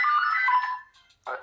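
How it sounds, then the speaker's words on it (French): A landline telephone rings in a steady electronic trill for under a second, then a short fainter ring follows after a pause, with no talk over it. "Le téléphone fixe."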